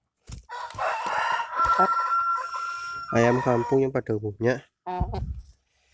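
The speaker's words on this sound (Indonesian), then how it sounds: "Ini adalah ayam kampung yang pada umumnya." An ordinary Indonesian kampung chicken crows nearby in a long drawn call, then clucks in a quick series of short pulses, with a person talking between the calls.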